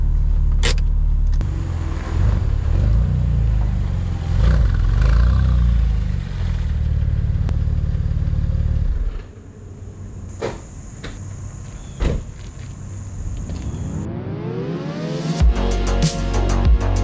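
Porsche 996 Turbo with about 150,000 miles and an overboosting fault, its engine droning low and loud, then a lighter idle with sharp clicks before a rising rev sweeps up near the end.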